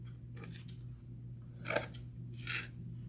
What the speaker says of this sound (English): So now, cut off the excess.